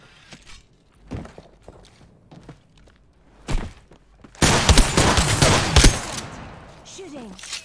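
Rapid bursts of video game gunfire erupt loud and sustained for a few seconds, preceded by scattered footsteps and thumps, with a voice speaking intermittently.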